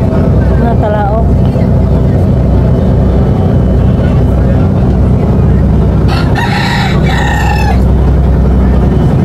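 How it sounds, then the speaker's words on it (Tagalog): A rooster crows twice in close succession near an island house by the sea, loud over a constant heavy rumble of engine or boat noise. "Natalaok ng manok."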